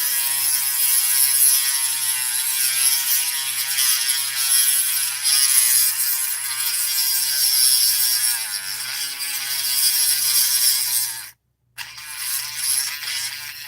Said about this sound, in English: you hear my Dremel stop